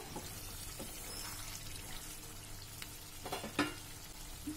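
Capsicum and onion cooking in a kadai chicken pan give a soft, steady sizzle with a few brief stirring clatters near the end, no talking.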